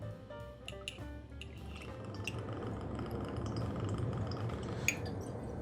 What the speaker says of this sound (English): let's begin with 2 ounces of vodka as it was intended.